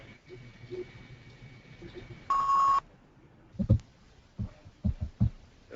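A single sharp electronic beep sounds for about half a second in a video call meeting over faint background noise, followed by scattered low thumps and muffled bumps.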